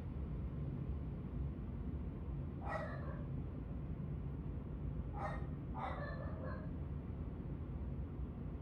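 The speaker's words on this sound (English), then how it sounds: "That's my dog." A domestic dog barks indoors in a few short bursts, one near 3 seconds and a pair around 5 to 6 seconds, fairly distant and moderate over a steady fan-like hiss.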